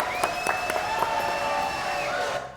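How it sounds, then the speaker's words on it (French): An audience at a French television show applauds after a closing song, a steady wash of clapping with a few sharper claps that holds and then fades out at the end. "Applaudissements, s'il vous plaît."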